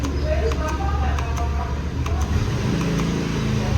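A Yamaha XMAX scooter, started without its keyless remote, idles with a low, steady engine rumble close by while someone talks over it.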